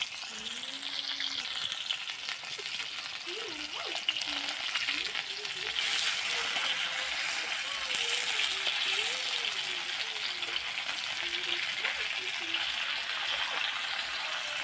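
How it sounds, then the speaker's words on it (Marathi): Bagda fish frying on a hot tawa griddle, a continuous crackling sizzle throughout while someone talks over it. "आणि हे टाकले तव्यावरती. तर मी आता त्याला पलटून घेते."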